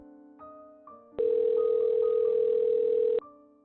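A telephone rings unanswered as a sound effect: one long, steady electronic tone lasting about two seconds, set over a soft, low background bed, with no voices.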